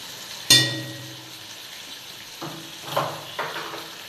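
Chicken meat sautéing in a pan for a home curry, with a sharp metallic clank and then a quiet sizzle. Three softer stirring scrapes follow at intervals, close by and without any voices.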